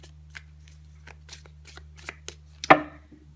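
Fortune-reading tarot cards are shuffled by hand, a series of soft riffling flicks and taps ending in a sharper snap as the deck is squared, close and alone over a low hum.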